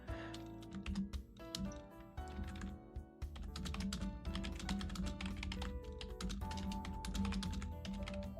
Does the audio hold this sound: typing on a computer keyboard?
yes